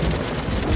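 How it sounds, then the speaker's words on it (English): A toy keyboard plays a rain sound effect: a short, dense patter of falling drops with a faint low rumble, heard alone. "Mr. Frog, why would you want to make rain sounds on your keyboard?"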